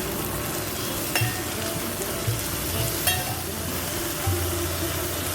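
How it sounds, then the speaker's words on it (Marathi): Chopped wild monsoon vegetables fry in a pan with a constant moderate sizzle and occasional soft scrapes and clicks of stirring, close by, no one speaking. "आता मी ही कापलेली भाजी टाकते. ती जरा शिजून घेते"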